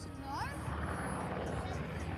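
An ambulance helicopter passing overhead on a Sunday morning in Cornwall, its rotor drone steady and fairly loud beneath a voice talking throughout.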